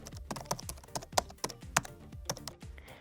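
Quiet, close typing on a computer keyboard in short uneven bursts of clicky keystrokes, entering a search into a trading chart platform, with no talk.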